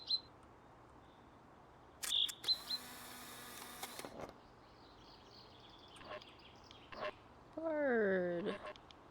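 Birds in a video game chirp in short bright bursts, with a quick rattling flutter and a warbling call near the end, fairly faint over a quiet background.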